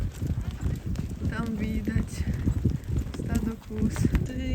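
Horses ridden on a trail ride in rural Morocco, hooves clip-clopping steadily at a walk over uneven ground, mixed with rustling, tack noise and ongoing chatter from riders nearby.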